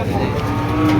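A bull lets out one sustained, near moo at the Mirshanni cattle market in Cumilla, where cattle are sold for Qurbani, set against a low background murmur.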